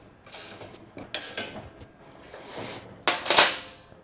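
Two 3/4 inch wrenches tighten a nut on a drag kart build, giving sparse metallic clinks and scrapes, a few sharp close knocks spaced over several seconds in a quiet room.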